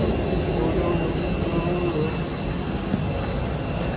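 A jet airplane engine roars in a steady, loud, broadband wash that fills the scene continuously, close and unbroken, at a location in Bali.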